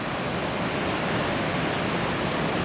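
River water rushing over rapids at Kanaskat-Palmer State Park in Washington, a continuous dense roar of whitewater, steady and unbroken throughout.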